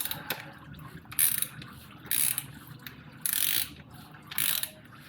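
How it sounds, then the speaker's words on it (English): A digital torque wrench ratchets on the oil drain plug of a 2000s 996.2 Porsche 911 Targa, heard as four short, crisp bursts of clicking about a second apart, close and clear over faint background noise. "I've got a digital torque wrench on here, which is obviously backwards."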